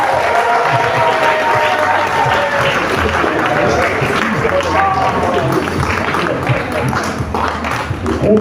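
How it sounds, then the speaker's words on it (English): Dense, steady applause fills a school graduation assembly for a graduate receiving a distinction, with crowd murmur and some voices over the clapping for the whole stretch. "A clap for Jean-Charles"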